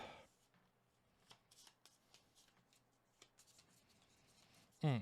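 Playing cards are shuffled during a Marvel Legendary tabletop card game, a quiet run of riffling and sliding card sounds with a louder knock at the end.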